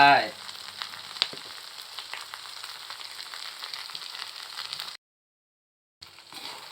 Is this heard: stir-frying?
yes